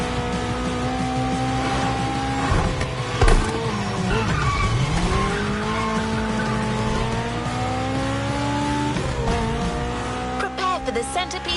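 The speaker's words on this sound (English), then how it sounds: "There's an absolute classic heading your way, a grail among collectors and Jim's greatest pride, the Mustang Boss 429." Mustang Boss 429 muscle car in The Crew Motorfest, a loud engine revving and shifting through gears with pitch climbs and drops, brief tire noise, and a voice talking over it.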